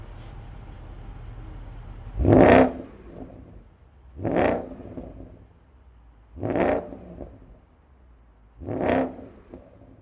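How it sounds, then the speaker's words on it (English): A 2013 Porsche Panamera GTS with carbon sports exhaust revs four times, each short loud blip rising and falling back to a low idle, evenly spaced and close by with no talk. "Let's take a look at the sports exhaust."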